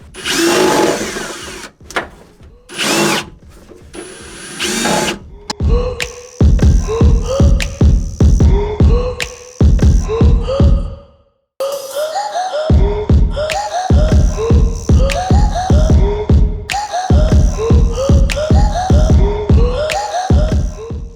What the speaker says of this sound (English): I'm going to tap each one with this step-up drill bit first.